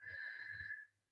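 During a seated chair exercise class, a person softly exhales a single, faint, breathy stream of air lasting under a second before falling quiet.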